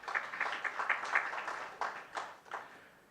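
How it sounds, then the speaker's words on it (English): Audience applause at a corporate leadership summit in New Delhi, a crowd clapping with a steady patter that swells into several louder bursts before thinning out, with no one speaking over it. "A big round of applause to them"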